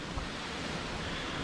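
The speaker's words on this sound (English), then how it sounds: "Pretty windy up here on the ridge we're walking right now." Wind gusting across a mountain ridge in Shenandoah National Park, a steady, loud broadband roar buffeting close to the microphone with no pauses.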